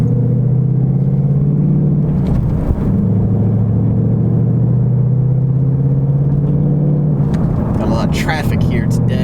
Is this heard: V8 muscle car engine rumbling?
yes